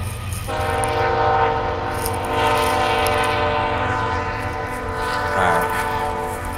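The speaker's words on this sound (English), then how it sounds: "let this train go by." Outdoors during a walk, a train rumbles past close by. A loud sustained horn blares over the steady rolling of the rail cars and the clatter of wheels, and all of it stays strong for several seconds.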